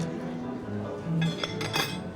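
Light metallic clinks of a fork against dishes, a few sharp taps in quick succession over a faint background murmur.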